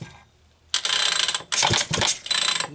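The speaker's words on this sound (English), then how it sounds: "Leon, we put a new starter rope in the 1010S Super" Starter rope on a McCulloch Pro Mac 10-10S chainsaw, newly fitted with a homemade pin and metal pulley, is yanked three times after a short pause, each pull a loud ratcheting whir with clicking recoil, close by.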